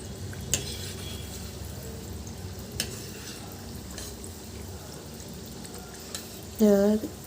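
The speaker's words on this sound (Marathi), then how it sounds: "तुम्ही असं दुसऱ्याही बाजूने आपण त्याला छान तळून घेऊयात" Biscuits fry quietly in a pan over very low gas, giving a soft, continuous bubbling sizzle with occasional light clicks and a brief louder tonal sound near the end, close but faint.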